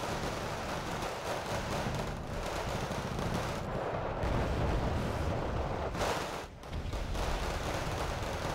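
Sustained gunfire from a T-72 tank and an Mi-24 helicopter in the Cold War strategy game Wargame Red Dragon: dense overlapping bursts and rumbling booms forming a continuous battle din, briefly dipping near the end.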